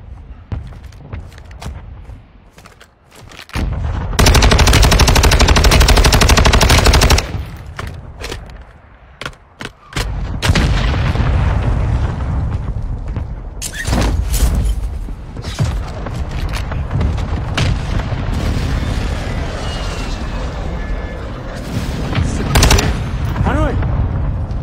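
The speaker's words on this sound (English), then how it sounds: "Friendly mortar strike inbound." Mortar strike explosions and gunfire in a video game: a loud, dense barrage of booms and rapid shots that swells midway, then continues as steady battle noise with scattered cracks.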